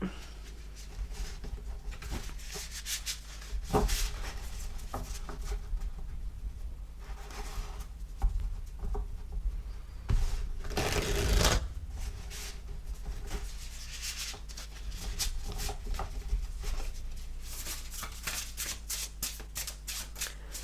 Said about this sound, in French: on va mélanger le tarot